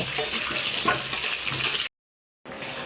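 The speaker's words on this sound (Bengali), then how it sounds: "দেখলাম তেল অনেকটাই আছে তাই ভাবলাম যে ওর মধ্যে আলুটা ভেজে নিই" Cut potatoes fry in a good amount of leftover cooking oil, making a loud, close, continuous sizzle with light stirring, broken by a brief silent gap before the frying resumes.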